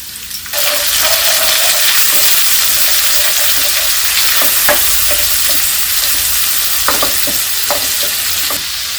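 Onions sizzling loudly in a hot pan as spices are added for a dhaba-style aloo do pyaza, a steady close frying hiss with occasional stirring scrapes and clicks.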